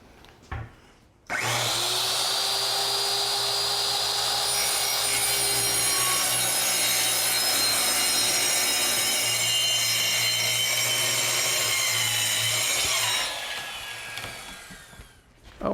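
A handsaw rasps through wood being cut for a workbench, a continuous close, loud scraping run of strokes lasting several seconds with a steady low hum beneath, then the cut stops abruptly.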